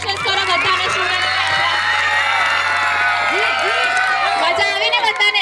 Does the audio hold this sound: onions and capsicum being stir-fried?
no